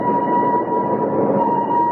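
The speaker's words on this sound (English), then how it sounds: "Oh, I hope he's on this train, Uncle Flax." A train at a station in a radio drama gives a steady, loud, tonal hum like a horn or whistle. The sound holds continuously for about two seconds with no voices.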